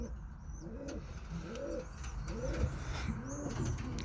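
Birmingham Roller pigeons coo softly from a nearby loft, several repeated rolling coos in a steady rhythm, quiet and close with no talking over them.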